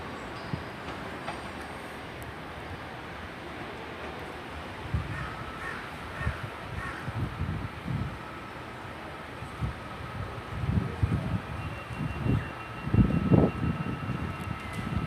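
Trains pull away from Exeter St Davids station toward London Waterloo, a low rumble with intermittent clanks and thumps building toward the end, while crows caw nearby.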